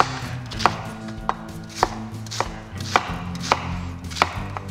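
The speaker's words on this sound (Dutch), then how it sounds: "We gaan gewoon die ajuin snijden in grove stukken" A knife chopping an onion into coarse pieces on a board, about eight sharp, evenly spaced cuts close up, with no talking.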